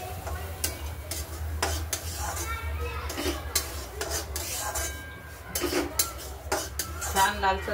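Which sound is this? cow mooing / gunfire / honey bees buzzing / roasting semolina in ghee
roasting semolina in ghee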